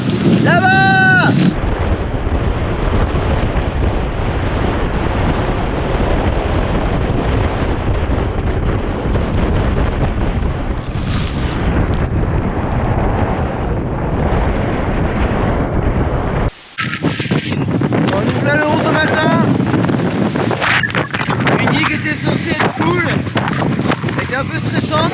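Strong wind roars across the microphone aboard a racing sailboat at sea during the Route du Rhum, with gusty squalls, a steady loud rush broken by a brief dropout, and voices speaking under it.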